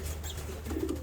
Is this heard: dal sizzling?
no